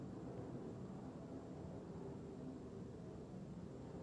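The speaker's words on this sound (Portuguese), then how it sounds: "Olha o barulho do avião passando agora aqui na minha casa." Airplane passing overhead near a house, heard indoors as a steady low, even rumble that stays at one level throughout, without talk.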